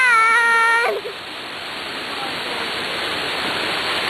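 A real waterfall roars as a steady, broad wash of falling water that holds loud and constant throughout, following a brief high tonal sound at the very start.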